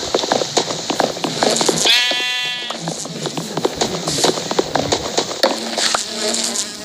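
A goat bleats in the Minecraft video game: a single wavering bleat stands out near the middle, with a person talking quickly before and after it.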